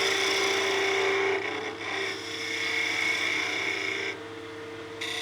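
A straight wing tool peel-cuts spinning Bocote on a wood lathe, giving a steady, close rasping scrape that dips briefly twice and then resumes, with no talk.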